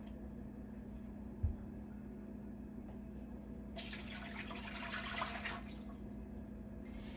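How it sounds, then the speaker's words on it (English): Water pours into a pressure canner for bone broth, a steady rushing splash lasting about three seconds and then cutting off, heard over a constant low electrical hum, moderately loud with no talking. "I am going to put in 3 quarts of water. That's typically what I put in for my pressure canner."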